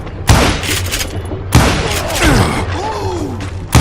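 Gunfire from the Western shooter Call of Juarez: Gunslinger, with loud booming gunshots at about 0.3, 1.5 and 3.7 seconds. A burst of crashing impacts and a few short whistling tones fill the gaps, and voices are mixed into the action.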